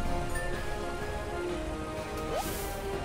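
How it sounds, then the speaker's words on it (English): Steady soft rain falls in the Stardew Valley farming game, a continuous gentle patter with a few faint chimes over it, no voices. "At least, we're gonna have rain until Wednesday"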